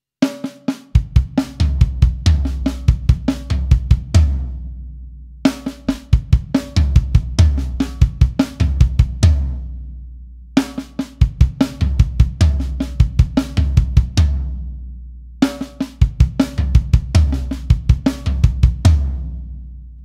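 A drum kit plays the Benny Greb crossover 9-note pattern slowly around kick, snare, toms and cymbals. Four repeated phrases are separated by short pauses, loud and close, with no talking.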